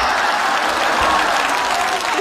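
Neighbours applaud in a dense, continuous burst of clapping, a busy crowd sound heard close and loud for a couple of seconds.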